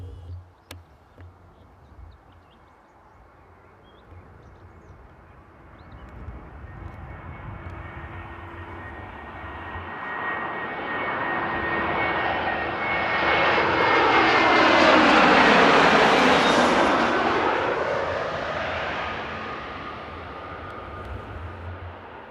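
Airliner landing at Frankfurt Airport on a sunny day, its engine roar swelling from faint to a loud, close peak as it passes overhead, then fading.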